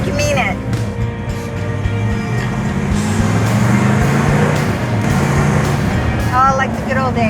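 An old Plymouth car engine runs steadily and close by, a continuous low rumble that holds throughout while people talk over it.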